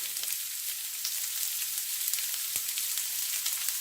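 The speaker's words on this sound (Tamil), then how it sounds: "வெட்டி வைத்த செத்தல் மிளகாய், கறிவேப்பிலை இவ்வளத்தையும் போட்டு ஒரு கொஞ்ச நேரம் வதக்குவோம்" Onion, dried red chillies and curry leaves sautéing in hot oil with mustard seeds and urad dal for cabbage fry, a dense continuous hiss and crackle, near and steady, no voices.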